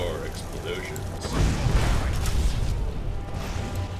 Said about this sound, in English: Explosions. More explosions.